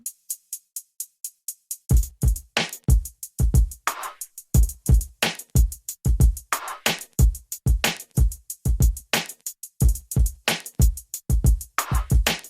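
Closed hi-hat ticking in steady, even eighth notes, soon joined by kick and snare in a tight machine-like groove, close and loud.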